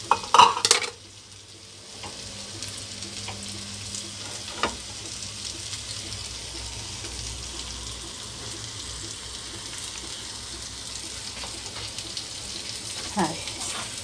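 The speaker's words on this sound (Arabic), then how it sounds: "هاي نعاود نخلط خلطة هادشي مع الفريت تنسجم مع المقادير مع المكونات الأخرى" Fries being stirred into a spinach and kofta mixture in a pan for a sandwich filling: a soft, continuous sizzle with a brief utensil clatter at the start and occasional scraping knocks.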